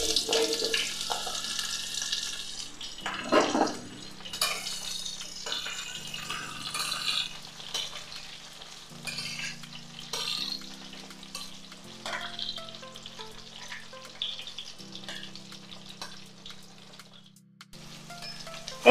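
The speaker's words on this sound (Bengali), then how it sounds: "এই সবজিগুলো ভাজা ভাজা করে নিলাম।" Vegetables sizzle in a pan with five-spice seasoning for a jackfruit vegetable curry, a soft, continuous crackle broken by occasional stirring scrapes and clinks, fairly close and without talk.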